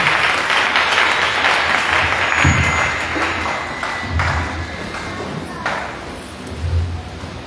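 A church congregation applauds, a dense sustained clatter of many hands filling the room, with a few louder thumps and voices mixed in as it carries on.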